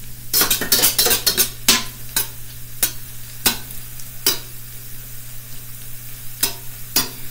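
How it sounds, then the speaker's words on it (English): Shrimp sizzle steadily in a skillet while a utensil scrapes and taps against the pan in repeated sharp strokes, close and clear with no voices. "Let's get that piece of shrimp over into the middle."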